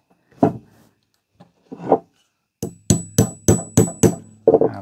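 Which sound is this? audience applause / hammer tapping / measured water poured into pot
hammer tapping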